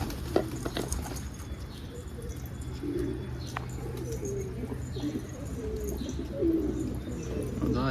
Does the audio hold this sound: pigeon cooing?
yes